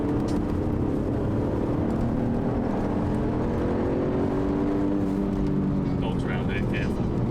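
Continuous engine drone of an Alfa Romeo 147 GTA on the move, a steady rumble with road noise throughout and no break.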